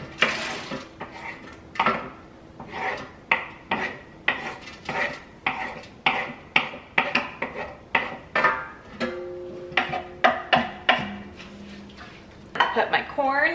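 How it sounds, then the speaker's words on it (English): Onions, garlic and jalapenos tipped into a pot for shelf-stable chicken chili, with repeated clattering knocks of a utensil against the pot in an irregular rhythm, fairly close and distinct; no speech. "Onions, garlic, and jalapenos are gonna go in."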